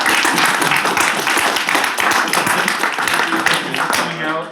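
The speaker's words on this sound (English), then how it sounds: "Let's just give a round of applause." Applause from a church congregation, with dense clapping mixed with crowd voices throughout and a steady, fairly loud level.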